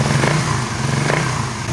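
A Suzuki Raider 150 Fi motorcycle with stock throttle body and stock exhaust pipe revs up close by, a loud, steady engine drone with a couple of brief swells.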